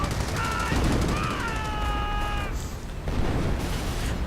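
Sustained .30 caliber machine gun fire from a World War II strategy game rattles continuously alongside other battle noise, while tonal game sounds rise and fade over the top.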